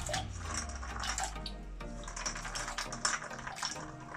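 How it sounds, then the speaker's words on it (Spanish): Water pours into a pot of fava beans being set to cook for soup, a continuous close splashing and pattering with crisp droplet clicks, fairly quiet and without speech. "Le echo un poquito de agua."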